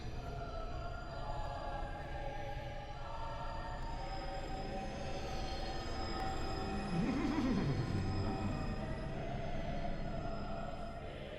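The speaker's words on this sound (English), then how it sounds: "The horsey noise is an underrated comedy." A horse in the video game Bloodborne lets out one wavering whinny partway through, rising and falling over a steady, dense wash of droning game ambience.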